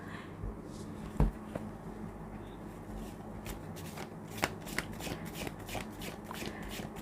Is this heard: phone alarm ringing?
no